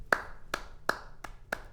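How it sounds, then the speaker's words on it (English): Two sets of hands clap close by in about six sharp, evenly spaced claps, with no talking. "two sets of hands clapping"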